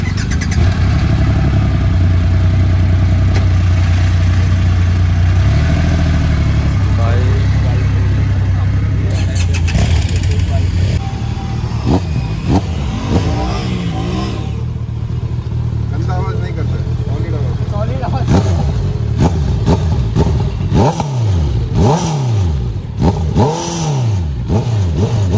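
A Triumph Rocket 3R motorcycle with a 2500 cc engine idles with a deep, steady rumble, then revs in sharp rising and falling bursts. People talk over the engine noise.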